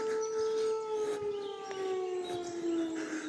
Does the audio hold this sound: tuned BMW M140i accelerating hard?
no